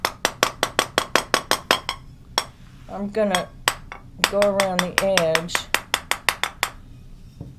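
Sharp, ringing taps of a hammer striking the seam of a kiln-fused glass piece, evenly spaced and repeated in quick succession, close and bright, with a short stretch of a person talking in the middle.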